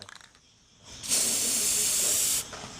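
A spray can releases one loud, steady hiss lasting about a second and a half. It starts and stops abruptly, with faint quiet before and after.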